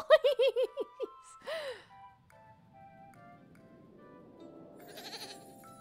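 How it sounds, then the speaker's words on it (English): A goat in the video game Little Goody Two Shoes bleats in a quick run of five or six wavering cries, then gives one longer bleat, followed by quieter ambient game sound and a faint high chime. "You know this goat?"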